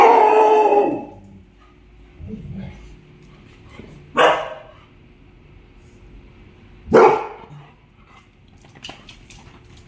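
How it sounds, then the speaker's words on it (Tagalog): Several dogs bark and howl outdoors at night. A drawn-out howl opens, followed by a few separate sharp barks spaced seconds apart, with quiet pauses between them. "At itong mga aso ko dito."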